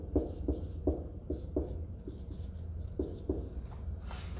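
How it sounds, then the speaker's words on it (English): Handwriting in the middle of a chemistry lesson: a pen scratches out short, repeated strokes at close range in a quiet room, with no talking. "So I'm going to write it below like this."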